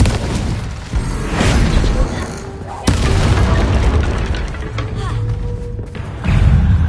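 Explosive spells Bombarda and Confringo going off in a fantasy video game set at Hogsmeade, a dense run of booming blasts and thuds with one sharp crack, loud and continuous under spoken talk.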